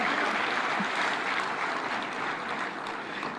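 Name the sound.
audience applause at conference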